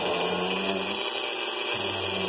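A power drill bores through a piece of wood with a scrap block underneath, giving a steady close whine that dips briefly in pitch partway through before picking back up.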